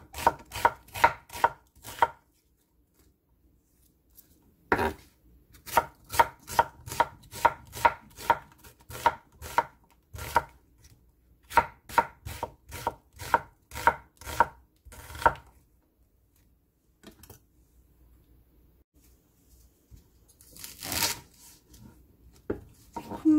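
A knife chops a medium onion on a board in quick, crisp runs of rhythmic strikes, separated by short pauses and a few scattered single cuts.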